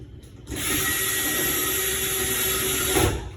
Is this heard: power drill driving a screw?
yes